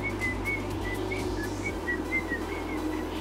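Someone whistles a repeated short two-note pattern, thin and steady, over a low background hum.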